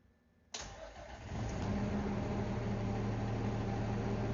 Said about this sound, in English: you have 2 green lights and the truck is running